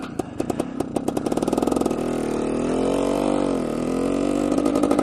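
A 1973 Suzuki TS250 Savage motorcycle's single-cylinder two-stroke engine starts with rapid popping pulses, then runs loud and close, its tone rising and settling into a steady buzzing idle.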